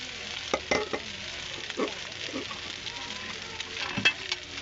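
Rice being stirred into a hot pan of frying garlic for Filipino garlic fried rice, with soft scraping strokes and a steady low sizzle, a few louder clanks of the utensil against the pan.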